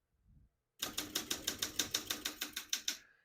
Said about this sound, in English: We're just going to keep that on single for now and finish typing.